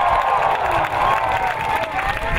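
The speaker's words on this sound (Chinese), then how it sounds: "掌声鼓励" A concert audience at a rice-harvest autumn music festival in Chishang claps and cheers in a steady, dense wash of applause with some shouts, loud and sustained throughout.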